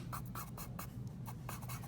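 Soft pencil shading strokes on paper, a light and steady rubbing in even back-and-forth rhythm with faint scratchy bursts, close and quiet, no voices.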